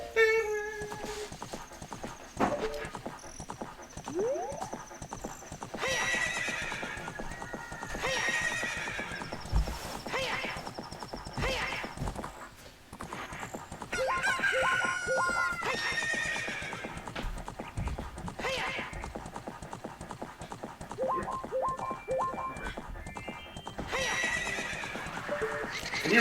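Horse in Zelda: Ocarina of Time whinnies several times over steady clip-clop trotting, with game music and effects running throughout, loud and continuous.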